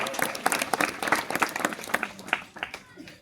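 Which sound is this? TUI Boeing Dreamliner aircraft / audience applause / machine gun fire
audience applause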